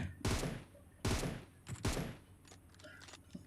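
Gunfire in the mobile battle-royale game PUBG Mobile, heard as three sharp, fairly loud gunshot bursts spaced about a second apart, each trailing off, with fainter clicks and shots after them and no talk.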